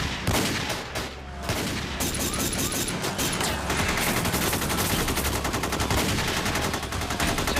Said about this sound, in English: Shots are firing everywhere.